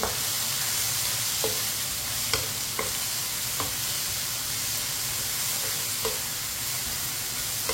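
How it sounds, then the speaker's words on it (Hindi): Finely chopped onion fries loudly in a pan for a ridge gourd dish, a constant close sizzle broken by scattered clicks of a spoon stirring and scraping. "इसे भी चम्मच चलाते हुए पकाना है प्याज को भी।"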